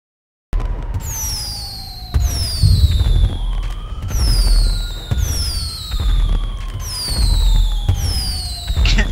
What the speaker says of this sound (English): We're shooting our firework launchers.